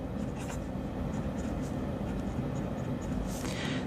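A Diplomat Magnum fountain pen with a medium nib writing on paper, giving a soft, continuous scratchy scribble with small tapping strokes, close and quiet against a low background hum.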